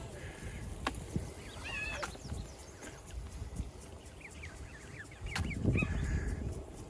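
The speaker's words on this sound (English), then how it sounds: "oh, there's some young geese" Several high, squeaky young goose honks sound from a short distance over steady outdoor background noise on a warm June walk in Regina, with a louder low rumble near the end.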